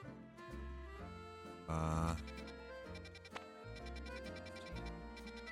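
Gogoat in Pokemon Legends Z-A gives its cry, a series of tonal bleating synth notes with one louder, longer bleat in the middle, close and clear over game music.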